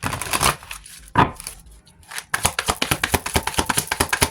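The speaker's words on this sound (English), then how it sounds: "let's shuffle this again" A deck of tarot cards is shuffled by hand, with a brief riffle and pause followed by a rapid run of crisp, rhythmic card slaps close to the microphone.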